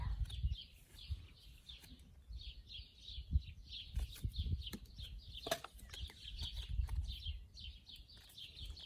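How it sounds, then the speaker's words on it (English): Birds chirp and trill steadily in the background outdoors, faint against low rustling and handling noise. "I hope you guys can also hear the birds."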